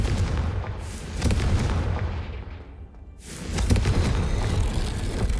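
In Hogwarts Legacy, the Confringo fire spell bursts with a loud, booming explosion, then a dense rumbling roar that dips briefly and swells again, with no talking over it.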